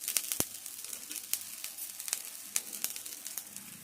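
Dosa made from idli batter with onion, coriander and chili frying on a hot pan, a steady close sizzle with sharp crackling pops scattered throughout.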